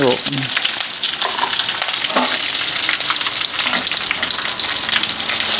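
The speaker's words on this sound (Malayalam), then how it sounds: "ഉള്ളി അത് മുറിച്ചിട്ടത് ഇട്ട് കൊടുക്കുന്നു ഇതൊരു ബ്രൗൺ കളറായിട്ടുണ്ട് പിന്നെ കുറച്ച് കരിയാപ്പില ഇടുക" Chopped onion browning in hot oil with curry leaves added crackles and sizzles loudly and steadily, with a few stirring clinks near the start and no talk.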